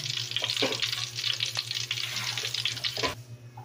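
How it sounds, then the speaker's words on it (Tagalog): Tuna fries in oil in a pan, crackling and sizzling loudly and close up. Scraping stirs sound over a steady low hum, and the sizzle drops away near the end. "naluto ng ating prito tuna"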